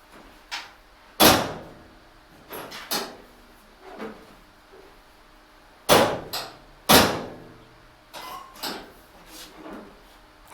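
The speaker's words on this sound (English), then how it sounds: "now I'm going to close the tailgate to make sure that the door handle is working properly" Tailgate on a 2004 Ford Ranger with a 3.0L engine being worked and shut, giving a series of sharp metallic clunks and latch clicks, several loud slams spaced irregularly with quieter rattles between.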